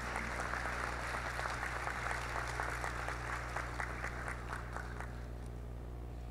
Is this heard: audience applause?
yes